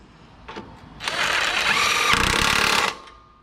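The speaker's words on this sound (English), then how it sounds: "I just take a 3/4 inch socket with an impact, go ahead and tighten up that nut" An impact wrench driving a 3/4 inch socket snugs down a nut while mounting an air fitting, giving one loud, continuous buzzing burst of roughly two seconds after a short tap.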